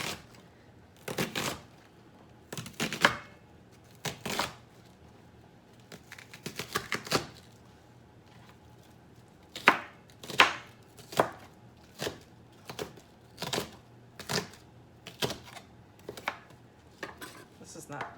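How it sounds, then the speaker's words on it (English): Finely chopping an onion with an inexpensive kitchen knife on a cutting board, a run of sharp, close knocks in quick clusters separated by short pauses, steady and fairly loud with no talking. "I like to chop this onion pretty finely."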